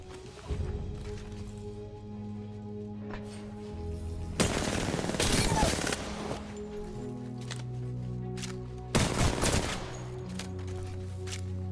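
Automatic weapon fire in Apex Legends comes in two loud sustained bursts with a few isolated shots between them, all over a continuous hum of game sound.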